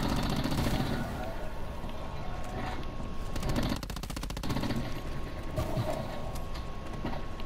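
Rapid pistol fire in Call of Duty Black Ops 4 Zombies, a fast, evenly spaced run of shots over continuous game noise, loud and steady with a dense stretch in the middle.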